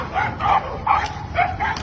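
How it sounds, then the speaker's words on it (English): Short repeated dog barks or yips, four or five bursts in under two seconds, moderately loud and fairly close, with no talking. "watch out for the dogs"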